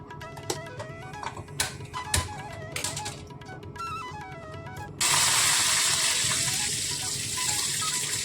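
Tempering for mango chutney with mustard seeds, whole red chillies and curry leaves bursts into a loud continuous sizzle halfway through, after quieter kitchen clinks and taps.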